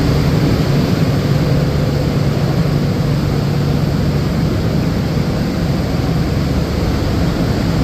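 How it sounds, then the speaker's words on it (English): Steady loud roar of an extraction fan pulling clear coat fumes out of a paint area during restoration of a 1948 Chevy, constant broadband whoosh with no talk. "Sorry about the fan roaring"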